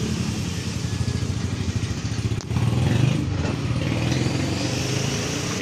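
A motorcycle engine is cranked and catches, running at a loud, close, steady idle with a rough chattering pulse and a short rise in revs partway through.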